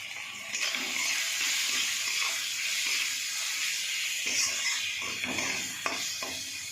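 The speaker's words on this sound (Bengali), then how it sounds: "ভালো করে কষিয়ে নেবো" Salt, turmeric, chili powder and cumin powder frying in a pan, giving a steady close hiss and sizzle with faint scrapes of stirring and no speech.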